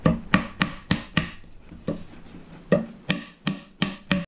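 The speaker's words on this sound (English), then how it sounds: "I'm going to carefully hammer it in" Repeated sharp knocks of a hammer on a wooden kitchen cabinet panel, about a dozen in uneven bursts, close and fairly loud, with a short quieter pause in the middle.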